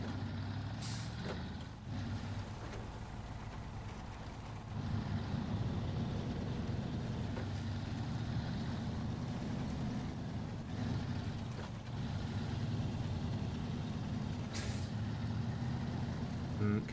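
A truck hauling a trailer across a bridge in the video game Snowrunner, its steady low engine drone rolling along continuously, with a couple of brief hissing air-brake bursts near the start and again toward the end.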